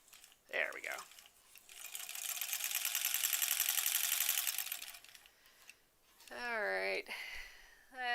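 A sewing machine stitches a Double Dutch quilt block in a steady whirring run of several seconds, close and clear, with a voice speaking briefly before and after.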